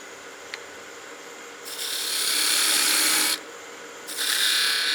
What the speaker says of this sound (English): Now we'll go to a parting tool.